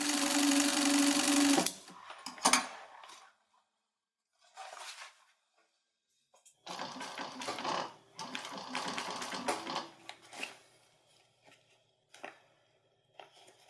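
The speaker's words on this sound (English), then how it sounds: "At this point, I'm sewing the side pockets to the main center assembly of the bag." A sewing machine stitches side pockets onto the main body of a custom Mystery Ranch Unicorn 2.0 backpack. Loud, close bursts of rapid stitching alternate with short pauses and a few light clicks and handling sounds.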